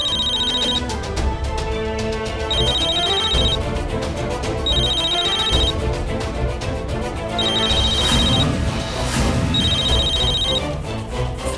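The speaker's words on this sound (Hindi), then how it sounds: "मेरा नहीं, निशी का फोन बज रहा है।" Phone ringing in regular repeated bursts, roughly every couple of seconds, layered over steady background music indoors; the ring stays clear and prominent throughout.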